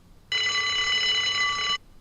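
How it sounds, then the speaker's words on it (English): An in-game alarm in the video game Unheard sounds as one sustained electronic ringing tone, starting abruptly, holding steady for about a second and a half, then cutting off cleanly, loud against a quiet background. "That's the alarm."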